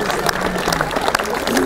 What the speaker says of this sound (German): Ich möchte ganz herzlich gratulieren und einen riesengroßen Applaus.